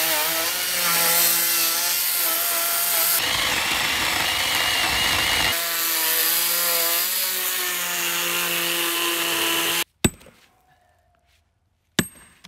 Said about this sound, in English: Chainsaws, electric chainsaws, and it's sort of working.